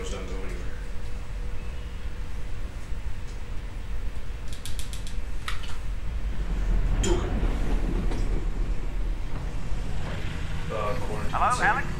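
A train rolls along in the Half-Life: Alyx VR game, a low steady rumble with faint rhythmic clicks, while a voice talks over it and the rumble grows somewhat louder midway.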